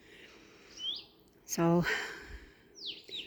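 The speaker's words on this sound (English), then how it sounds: "Yeah, beautiful robins." Robins sing in brief chirps and whistles outdoors in spring, one clear close phrase standing out among fainter calls, with a person talking over and around them.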